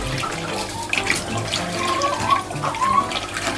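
Probiotic mixture with molasses being stirred into fresh water for freshwater fish, a continuous close sloshing and swirling of liquid with small splashes.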